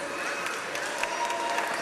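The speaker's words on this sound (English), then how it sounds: "Please give them a round of applause" An audience at a school annual day claps for the children and teachers on stage, a brief, steady wash of many hands with a faint crowd murmur beneath.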